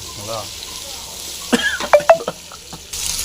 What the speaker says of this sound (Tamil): பூண்டு போட்டு நல்லா ஒரு கலக்கு கிடைக்குங்க